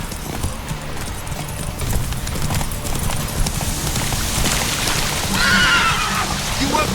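A horse in The Witcher 3 gallops at a steady pace, its hooves drumming continuously and loud up close with no speech.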